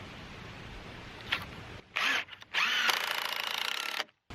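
A power drill drives screws into a wooden playhouse platform in several close, loud whirring bursts, starting and stopping between screws.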